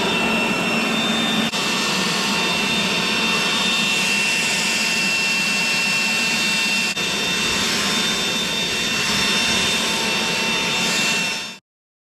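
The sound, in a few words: blower clearing debris off a roof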